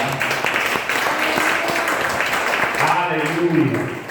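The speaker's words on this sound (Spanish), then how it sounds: "aplauso al más importante." Church congregation applauding during a Spanish-language service, scattered hand claps under a murmur of voices, with a voice rising over the end as the clapping thins.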